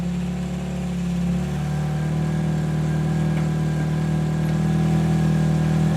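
A Toyota Corolla with a worn exhaust in need of muffler work runs steadily, a close, raspy, droning idle with a faint rise in revs partway through.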